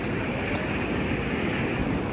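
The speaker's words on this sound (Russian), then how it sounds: "мы постоянно убегаем от волн, потому что отсюда прям бьет сильно, и поднимается вода каждые 5 минут." Strong sea waves break on a wild beach, a continuous nearby roar of surf mixed with wind buffeting the microphone, loud and unbroken with no talk.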